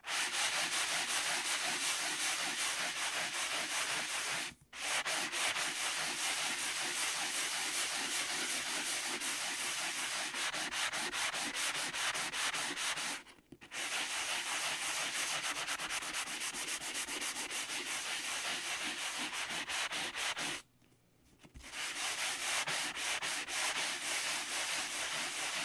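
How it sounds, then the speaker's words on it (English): Steady, scratchy rubbing of a sanding block lightly sanding paper goes on in long strokes, pausing briefly three times, close and fairly quiet. "I'm going to just lightly sand some of the paper to reveal the picture"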